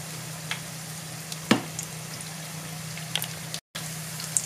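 Homemade peanut briouates fry in hot oil, giving a soft, steady sizzle with a low hum beneath and a few sharp crackles and pops scattered throughout.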